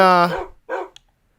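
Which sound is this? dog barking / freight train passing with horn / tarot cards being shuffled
dog barking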